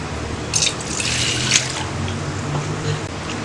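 Water is poured into a pot of basmati rice for mutton biryani. It makes a close, continuous splashing trickle with a few louder splashes.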